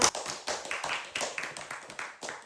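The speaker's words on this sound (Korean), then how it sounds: "송주아 명사님을 큰 박수로 모시겠습니다" A small audience claps to welcome a speaker to a storytelling talk, in short bursts of hand claps that rise and fall several times, fairly close and moderately loud.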